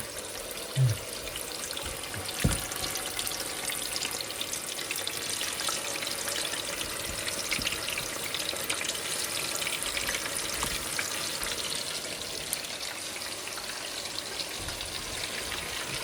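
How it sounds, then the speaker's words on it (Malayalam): Chicken fries in oil for a Kozhikode-style biryani, a steady close sizzle and crackle with a few sharp pops and clatters from the pan. "ചിക്കൻ പൊരിക്കുകയാണല്ലേ"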